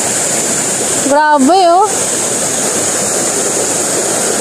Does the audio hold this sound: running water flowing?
yes